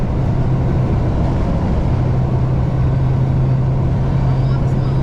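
Dodge Hellcat engine droning steadily at night with a constant low whine, loud and continuous throughout, voices faintly underneath.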